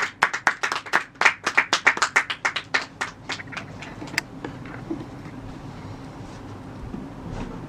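An audience applauds to welcome Pastor Amos Shahzad at a church gathering, with a burst of many sharp, rhythmic claps that thins out over a few seconds and gives way to quieter room ambience.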